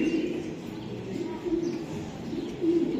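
Racer pigeons cooing in soft, low, repeated calls that rise and fall close by, with background noise and some murmuring voices underneath.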